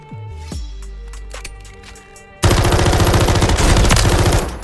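FJX Horus gun in Call of Duty Warzone 3 firing in rapid bursts, first a few sharp separate shots, then a loud, sustained rattling stream of closely spaced rounds up close.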